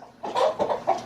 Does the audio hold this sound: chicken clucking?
yes